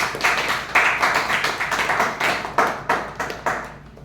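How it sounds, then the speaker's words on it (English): A small audience at a Toastmasters meeting gives a round of applause, with individual hand claps standing out in a lively, uneven patter that carries on steadily from start to end, close by and without talk. "Please give a big round of applause to Toastmaster Hiren."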